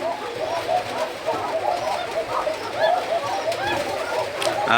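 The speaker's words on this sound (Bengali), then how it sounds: "দেখেন ডাক শুরু করে দিছে সাদা ডাকছে" Coca pigeons coo in repeated soft, throaty calls close by, layered over a busy background of other birds and faint voices.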